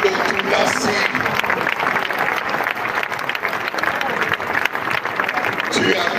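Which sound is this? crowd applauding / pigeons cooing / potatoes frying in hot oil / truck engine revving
crowd applauding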